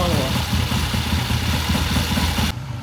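A Triumph TR6 motorcycle engine idles outdoors, making a loud, continuous low rumble with an even pulsing throb that holds steady throughout.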